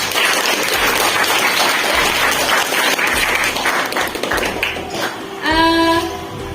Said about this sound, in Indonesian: Kita beri applause untuk Arifah.